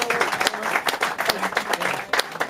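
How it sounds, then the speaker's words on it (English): Wedding guests clap for the bridesmaids in a short burst of close, uneven applause, individual claps standing out, with some talking mixed in. "they deserve a round of applause."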